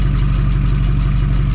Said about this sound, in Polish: Silnik bardzo ładnie chodzi. Cichutko.